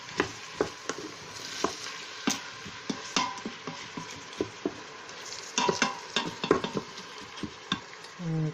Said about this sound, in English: the onions are in, just give them a stir